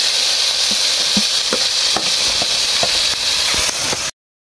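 Onion, ginger-garlic and tomato paste with whole spices frying in hot oil for an egg and potato curry. A loud, steady close-up sizzle runs throughout, with soft stirring scrapes, and it cuts off abruptly near the end.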